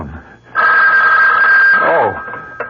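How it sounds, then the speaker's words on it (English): A telephone bell rings loud and close in one sustained ring that stops abruptly, followed by a brief rustle. "The phone."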